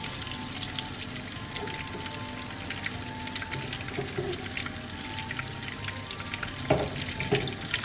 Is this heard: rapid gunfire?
no